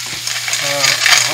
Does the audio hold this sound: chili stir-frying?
yes